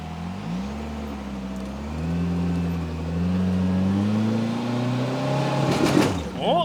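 A 2026 Kawasaki Teryx5 H2 side-by-side engine pulls steadily in low range four-wheel drive at full power while crawling up rocks, a close, sustained rising and falling drone ending with a brief burst of scraping or tire noise.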